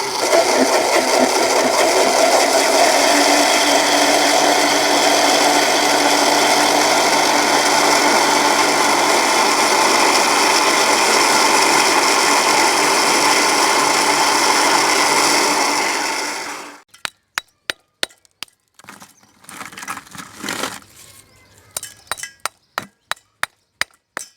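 A blender whirs loudly and steadily for about seventeen seconds while blending a gulkand milkshake, then shuts off, followed by scattered clinks and light knocks of the jar and utensils.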